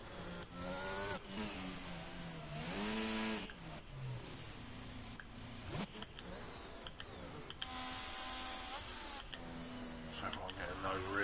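Race car engines in a sim racing game roar and rev through rising and falling gear pitches at a standing start, several cars overlapping, with a voice speaking over the engine noise.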